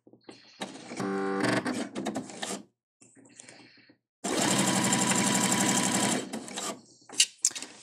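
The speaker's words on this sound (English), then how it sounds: "I'm just going to sew a nice straight line." Husqvarna Viking Jade 20 domestic sewing machine stitching a straight line, a fast mechanical whirring hum in short runs, a longer steady burst after a pause, then stopping with a few clicks.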